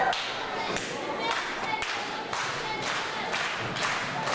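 A small wrestling crowd at a W3L wrestling show claps in a steady rhythm for wrestler Jason Reed, with distinct, fairly sharp unison claps about every half second and some murmuring voices underneath.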